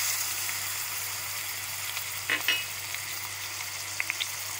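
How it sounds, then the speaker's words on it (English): Onion and tomato frying in a pan, a steady soft sizzle running throughout at moderate level, with a brief louder burst of crackle midway and a few small pops near the end. "We will fry till onion is light golden."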